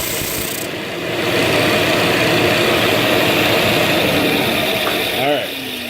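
A Flatmaster drum sander with 80 grit runs wood through it with a loud, steady motor drone and grinding rumble, then winds down at the end.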